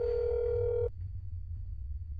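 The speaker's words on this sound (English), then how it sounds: "Let's just quickly call." A steady telephone dial tone hums loudly for almost a second after a handset is lifted to place a call, then cuts off abruptly, leaving faint low background noise.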